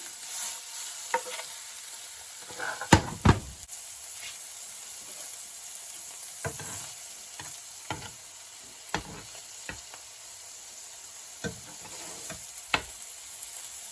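Mushrooms sizzle steadily in garlic butter in a hot pan, a soft continuous hiss broken by occasional clicks and scrapes of stirring, with no voices.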